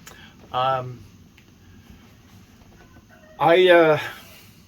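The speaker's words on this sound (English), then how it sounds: "Sorry about the rooster, but what can you do? You live on a farm." A rooster crows twice nearby on a farm, a short call followed by a longer, louder one a few seconds later, with quiet background between.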